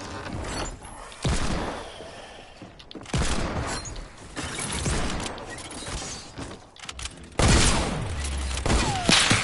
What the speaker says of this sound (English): I'm using the hand cannon!